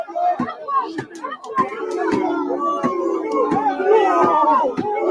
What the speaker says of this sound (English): They are booing at the police.